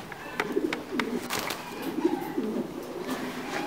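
Titan Thai meat pigeons in laying season coo in soft, repeated low rolling calls that come close and fairly quiet, with faint clatter in the loft between the coos.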